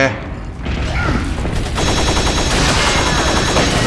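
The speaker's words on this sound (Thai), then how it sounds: "รีบยิงกุญแจ" Rapid gunshots aimed at a lock in Resident Evil 4, a loud burst of repeated reports firing in quick succession, under excited voices.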